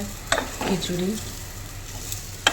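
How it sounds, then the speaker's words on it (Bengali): Rice frying in a pot for khichuri, a soft sizzle with scraping stirs and a couple of sharp utensil clicks against the pot, while a voice speaks briefly over it. "খিচুড়ির জন্য কিন্তু আমি এখানে চালটা ভেজে নিচ্ছে"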